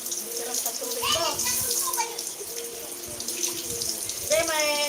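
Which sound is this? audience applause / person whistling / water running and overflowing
water running and overflowing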